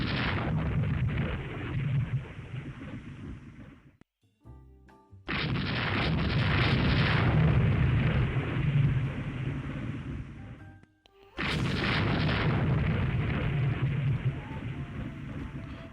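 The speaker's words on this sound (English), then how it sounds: "I'm actually very glad that the Confederacy has 16 and 14-inch guns, because they fucking hurt" Heavy naval gunfire from 16- and 14-inch battleship guns in the Rule The Waves 3 naval game: three long, loud rumbling salvos of booming blasts, each sustained for several seconds with brief quiet gaps between them, no talk.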